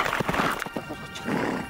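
A horse neighs in a short whinny, with hooves shuffling nearby; the sound is fairly quiet.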